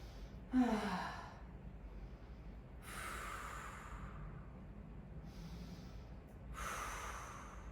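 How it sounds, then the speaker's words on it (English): A person exercising breathes deeply during a stretch: four loud, close breaths alternate between a sharp inhale and long breathy exhales, separated by short pauses. "Big breath in, big breath out."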